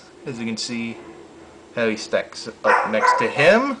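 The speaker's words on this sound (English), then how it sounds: "Sorry about that if you heard barking, that was my dog." A pet dog barks and yips nearby in a home, giving several short, sharp barks in bursts. A voice talks over them.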